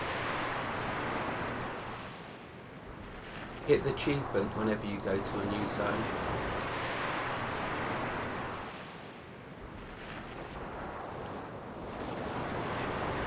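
Ocean surf rolling steadily in the icy Iceclad Ocean zone of an online fantasy game, a continuous broad wash with some wind, while someone talks over it at moderate level.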